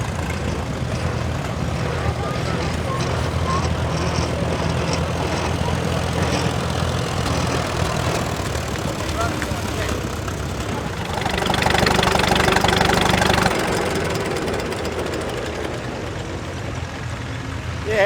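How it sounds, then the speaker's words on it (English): A 1926 Farmall Regular tractor engine runs steadily at a vintage field day, a continuous chugging drone with a brief louder surge midway, while people talk nearby over the engine. "1926 Farmall Regular. Just a regular tractor, like any other tractor."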